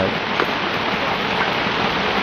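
Rain falls steadily at an outdoor fishing pond, making a dense, even patter that carries close and loud through the whole stretch with no voices.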